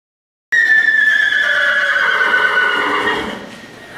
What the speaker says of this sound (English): Riding a horse can be tricky.